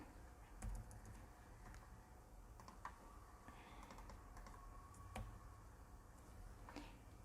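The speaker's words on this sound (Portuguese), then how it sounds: "Tô colocando ele pro lado aqui com o meu teclado, com a minha setinha do teclado" Soft, close computer keyboard typing with scattered individual key presses and short clusters of taps, like arrow-key nudges, in a quiet room with no talking.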